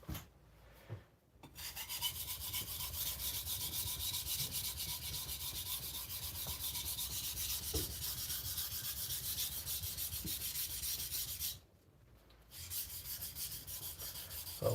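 A 52100 steel knife blade being sharpened on a stone, a steady close rasping rub running almost continuously with two short pauses where the stroke stops.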